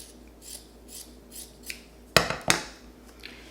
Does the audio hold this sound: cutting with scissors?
yes